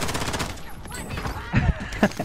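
A few sharp gunshots in the Warzone battle royale game, sparse bursts arriving late after a quieter stretch, close and punchy, with voices talking in the background.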